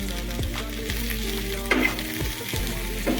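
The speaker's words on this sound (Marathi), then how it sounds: "त्याला आपण परतून घेऊया." Cooked chicken and precooked vegetables sizzle and fry in a pan, with repeated scraping stirs of a spatula breaking through the steady crackle at close range.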